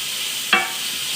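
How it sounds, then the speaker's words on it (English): A steady sizzle of food sautéing in a hot pan, broken by one brief scrape of a quick stir, close and continuous. "Give this a quick stir. Saute it nicely."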